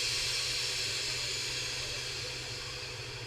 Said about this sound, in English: let the vacuum out, or the air back in, depending on how you look at it